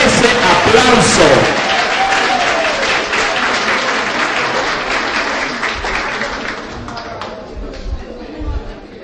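An audience at a municipal ceremony applauds an honoree, loud dense clapping that starts strong and gradually fades over several seconds, with voices mixed in.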